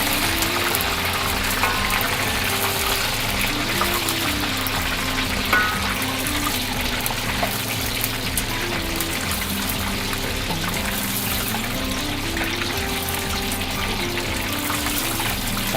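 Excess moisture boils off in a hot pan of chicken wings for karaage, a steady, loud, continuous bubbling sizzle that holds without a break.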